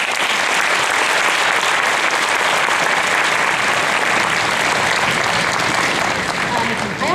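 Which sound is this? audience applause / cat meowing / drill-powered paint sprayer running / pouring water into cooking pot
audience applause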